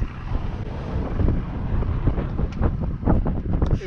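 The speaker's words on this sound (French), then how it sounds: "Et le vent tombe." Strong wind at sea in the Gulf of Patras buffets a microphone aboard a sailboat, rough gusty rumble with uneven surges and faint water sounds, no talking.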